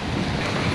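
Broadband ocean surf at North Hollywood Beach, Florida, a steady continuous wash of waves rolling in close by with no speech over it.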